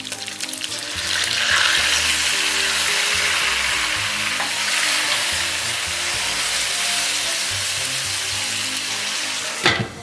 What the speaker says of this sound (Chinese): 炒制的时候一定要从锅底翻啊，把切好的葱姜蒜给它下里边儿